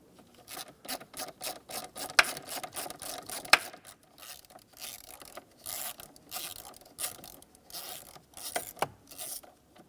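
A ratchet clicks in repeated quick bursts while T25 Torx screws are backed out of a Ford Focus blower motor, close and crisp, with brief metallic clinks between strokes.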